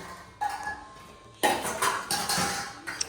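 Metal pots, dishes and utensils clatter and clink while being washed at home, arriving in a few bursts of scraping and knocking, fairly close and loud.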